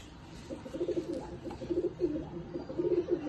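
Tournament pigeons in a home loft give low, repeated cooing in short rolling bursts, moderately close, over a steady background hum with no talk.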